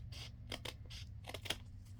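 Scissors snipping through paper, several short crisp cuts in a quick irregular sequence, close and fairly quiet with no talking.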